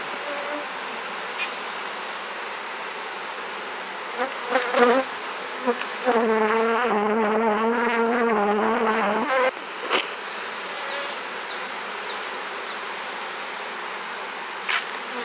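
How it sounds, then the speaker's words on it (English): A dense, steady buzz of many honey bees close by, swelling louder for a few seconds in the middle, with occasional rustling handling sounds. "the bees are getting more worked up and harder to work"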